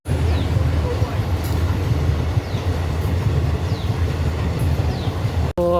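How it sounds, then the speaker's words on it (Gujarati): A train rolls past close by with a steady low rumble and rattling wagons, loud and continuous for several seconds before cutting off, with faint voices in the background. "જો 1 વાગ્યાની રેલગાડી આવે પેણી તમને બતાવું."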